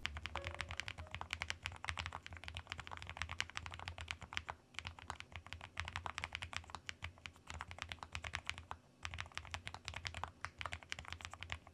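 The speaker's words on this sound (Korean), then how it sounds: "키보드 다리를 한번 들어서도 쳐볼게요." Rapid, steady typing on a slim low-profile Lofree Edge 84 keyboard with its feet raised, quiet crisp key clicks in a dense irregular stream with a brief pause, close up and with no talk.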